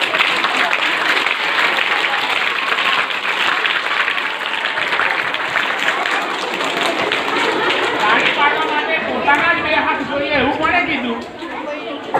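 A crowd of guests at a primary school event in Bhuj claps hands in loud, dense, sustained applause, with chatter mixed in throughout.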